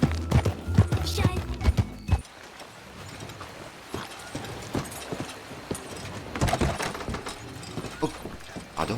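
In the Red Dead video game, a horse pulls a cart with steady clip-clop hoofbeats and rattling wheels, while voices talk over it.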